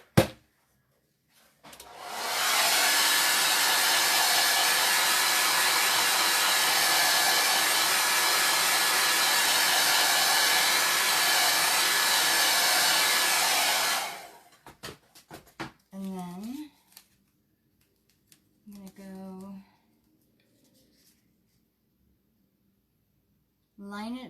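A hair dryer dries chalk paste on a Chalk Couture craft transfer, running as a loud, steady, close whoosh for about twelve seconds. Once it switches off, a few light clatters and a speaking voice follow.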